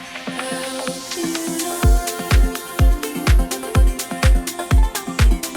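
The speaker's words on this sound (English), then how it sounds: "We put our old white noise faller in here, but also with some tremolo and space designer in it" A synthesized white-noise faller with tremolo and Space Designer reverb sweeps downward at the start of an electronic production, then sits under a loud, pulsing kick-driven sidechained beat.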